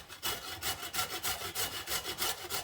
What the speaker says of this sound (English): just grate one carrot